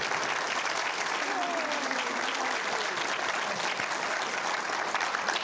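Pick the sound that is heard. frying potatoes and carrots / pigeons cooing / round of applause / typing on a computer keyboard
round of applause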